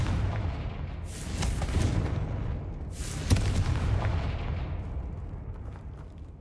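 In Hogwarts Legacy, the Confringo spell sets off two heavy, booming fiery blasts about two seconds apart. Each one rolls into a long rumbling decay over a constant low game roar, with no talking.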